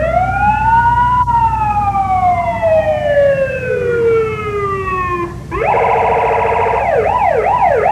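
A loud fire truck siren at a Christmas parade in Neodesha wails in a long descending sweep, then switches to a rapid warbling yelp, close by over rumbling engine noise.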